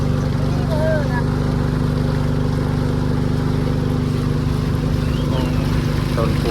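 Motorboat engine droning steadily across high flood water, a loud continuous low hum with splashing and wind noise throughout, and faint voices in the background.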